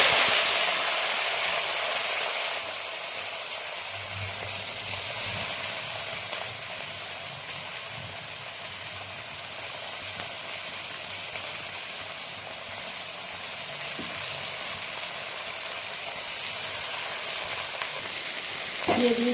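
Chopped banana flower and potato frying in a pan after a panch phoron and radhuni tempering, a loud continuous sizzle with occasional stirring scrapes, steady and close throughout.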